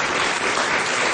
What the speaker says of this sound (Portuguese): Um grande aplauso para as duas.